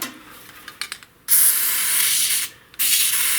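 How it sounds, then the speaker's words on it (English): Aerosol grease sprays onto Craftsman snowblower splines after a few quick handling clicks. Two long, loud hissing bursts are heard up close, separated by a short gap. "And then I spray a lot of grease."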